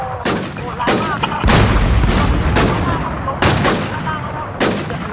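Gunfire in a PvP shooting video game, with a series of loud, sharp bursts of shots spaced a second or so apart over a continuous busy game background, some shots heavy and booming.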